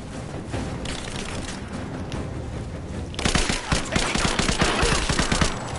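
Sustained video game gunfire during a covering-fire exchange, a steady rattle of shots that swells into a louder, denser burst of rapid automatic fire in the second half, with no talking.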